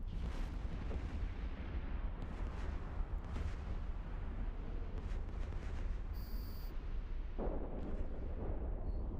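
Deep, rumbling explosions from bombs dropping in a video game, a dense continuous low roar with several heavier booms and bursts standing out, no voices.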